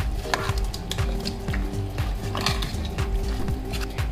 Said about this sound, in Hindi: मैं इसको थोड़ा मिक्स कर दूंगी।